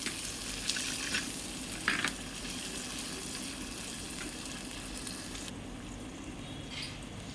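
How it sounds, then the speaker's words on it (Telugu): Onion, green chilli and drumstick pieces fry in a pan until golden brown for a cucumber and drumstick pulusu curry, giving a soft, steady sizzle with a few stirring clinks. "ఉల్లిపాయ, పచ్చిమిర్చి, ములక్కాయ ముక్కలు అయితే యాడ్ చేసుకోవాలి. అయితే గోల్డెన్ బ్రౌన్ కలర్ వచ్చే వరకు అయితే వేయించుకోవాలండి."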